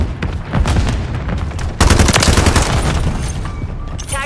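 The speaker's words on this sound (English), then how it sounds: "Throwing grenade! Stun grenade up!" Loud, dense bursts of game gunfire and explosions in Call of Duty, including a grenade and a stun grenade, with a sharp blast near the middle followed by sustained crackling fire and rumble.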